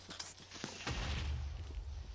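A few quick clicks and thuds, then a deep rumbling boom that rolls on to the end, like a game explosion.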